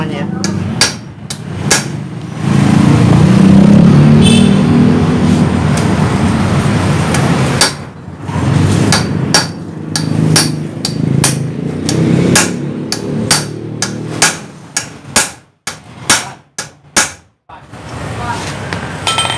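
Repeated hammer blows driving a steering head bearing cup (komstir) into a Yamaha Jupiter MX motorcycle frame, using the old cup as a drift; sharp metallic strikes, some in quick bursts, over a steady low workshop rumble, with occasional speech.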